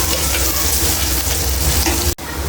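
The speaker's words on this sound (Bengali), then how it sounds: "পেঁয়াজটা ভালো করে ভেজে নেব।" Chopped onions fry in a pan for beef liver bhuna with garam masala, a dense, loud, continuous sizzle close by, briefly cut near the end before resuming.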